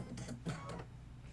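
A computerized embroidery sewing machine runs its automatic threading cycle, producing a short burst of quick mechanical whirs and clicks close by, fairly quiet and over in about a second.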